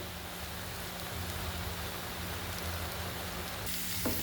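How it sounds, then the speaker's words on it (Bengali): Garlic and dried chilies fry in oil as a tempering for jute greens, a faint, even hiss of sizzling that carries on steadily with no voices. "আমি ভেজে নিচ্ছি পাট শাকের ফোড়নগুলো, রসুন দিয়ে শুকনো মরিচ দিয়ে ফোড়ন দেবো"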